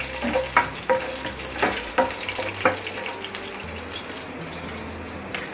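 Mustard seeds sizzle in hot oil with a soft continuous hiss. Scattered sharp pops and crackles are heavier at first and thin out later.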